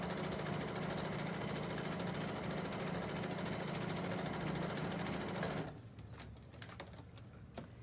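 A sewing machine runs a steady, fast, close-up stitching drone while free-motion quilting 3D leaves, then stops abruptly near the end, leaving quiet room tone with a few faint clicks.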